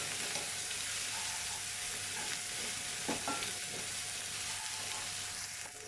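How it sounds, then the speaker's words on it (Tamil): Onions stirred and fried in oil until golden for a drumstick kootu, a steady close sizzle with occasional scraping strokes of a spoon, continuous and fairly loud with no talking. "இப்போ இதை நல்லா கிளறி விட்டுக்கலாம்."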